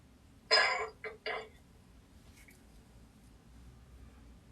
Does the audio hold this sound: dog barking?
no